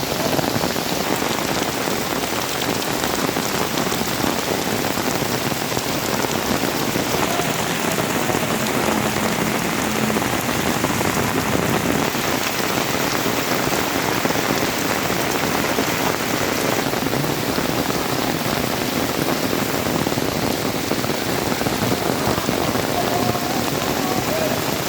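Heavy monsoon rain hammers steadily on a waterlogged football field, a loud, dense, unbroken hiss of drops on water and ground throughout, with no clear voices.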